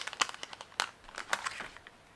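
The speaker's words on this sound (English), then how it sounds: "so not to make too much noise with the paper" Quiet, close paper rustling with sharp crinkles and soft crackles in irregular bursts, heard on its own.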